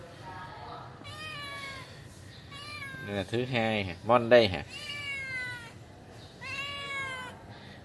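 A stray cat taken in at a home meows several times, close and clear, with long drawn-out cries in between people talking nearby.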